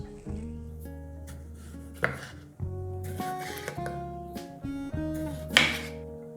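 A knife chops half an onion and a tomato on a board with a series of irregular, crisp taps. Background music plays throughout and no one speaks.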